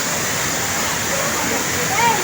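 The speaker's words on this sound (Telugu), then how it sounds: "ఇలాగా వాటర్ ఫాల్స్ వచ్చేది బాగా వస్తాయి." Sri Kailasam Waterfalls pours in a loud, steady broadband rush that fills the whole stretch without pause, with indistinct voices of visitors faintly underneath.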